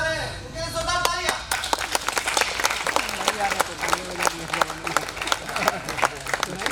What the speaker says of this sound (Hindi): वैभव सर आ रहे हैं, उनके लिए जोरदार तालियां